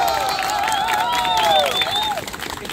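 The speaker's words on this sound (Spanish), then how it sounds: "Quiero un fuerte aplauso para Marisol Blanco." An outdoor crowd in a plaza during a tango dance event applauds, clapping mixed with cheering and a few high shouts and whistles rising over the hands.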